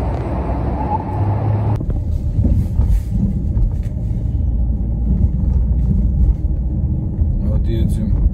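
A car drives along an empty Fifth Avenue in New York, giving a steady low rumble of engine and road noise from inside the vehicle, loud and continuous, with a voice talking over it.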